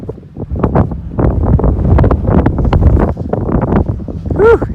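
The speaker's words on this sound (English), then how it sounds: "Whew, it is getting breezy out." Strong outdoor wind buffets the microphone on a golf course where a lifted Ford F350 is out mudding, giving a loud, gusty, rumbling roar that lasts throughout with no clear speech.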